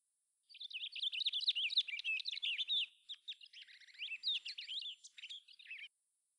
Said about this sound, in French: Sur la plus haute branche d'un grand arbre était perché un petit oiseau, ami de Pierre.